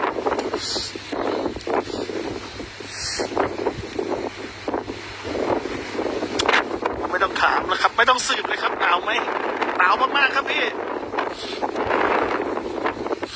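Strong wind roars and buffets the microphone continuously on a foggy mountain cliff at Pha Hua Sing, Phu Thap Boek, Thailand, while people talk over it.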